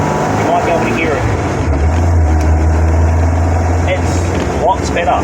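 A BMW 318 with an M10B18 engine on 45mm Weber DCOE side-draft carburettors and extractor exhaust runs with a steady, loud drone and a deep low hum, with some talking mixed in.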